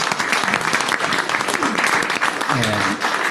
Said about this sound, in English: if you would all join me in giving them a round of applause